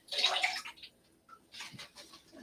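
Water poured into a bowl of white royal icing for piping roses on sugar cookies, a short bright splashing pour followed by quieter trickles and a few small drips, close and alone.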